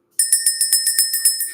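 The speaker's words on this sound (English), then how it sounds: "let's ring the bell" A bell rings in a rapid, even series of about ten bright, ringing strikes, loud and close, with no talking.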